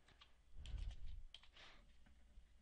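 Quick, light keystrokes on a computer keyboard during Java modding for Minecraft Forge, a short burst of clustered taps followed by a few scattered presses, fairly quiet and close.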